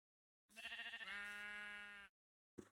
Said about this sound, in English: Here's a couple sheep.